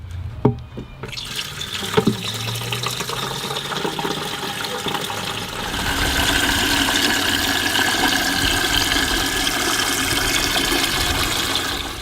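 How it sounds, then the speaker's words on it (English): Water runs and splashes, starting with a few clunks and trickles, then settling into a steady, louder gushing pour as a container fills. "I'll fill the bucket up with water and we'll try it out."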